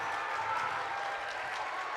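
A crowd applauds at a high school girls basketball game in a gym, a steady wash of clapping that stays even and fairly loud for the whole stretch.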